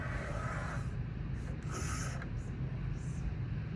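A trimmer slices the white edge off a dry-mounted print, giving a few brief scraping cuts over a steady low mechanical hum, fairly close and quiet.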